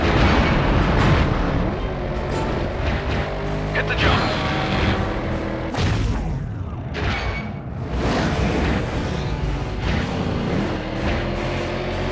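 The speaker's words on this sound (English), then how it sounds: "Pass close to explosions." Dense, rumbling explosions and booming blasts fill a scene in the PS2 game Stuntman: Ignition, with a dune buggy's engine roaring underneath and a voice speaking briefly over the chaos.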